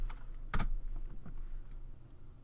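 Keys tapped on a computer keyboard while entering a node name in Substance Designer software, a short cluster of quick, crisp clicks with one louder stroke, close and clear, no voices.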